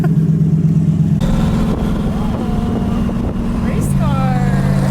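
A freshly rebuilt car engine fires for the first time and settles into a loud, rough idle close by, with people talking and exclaiming over it.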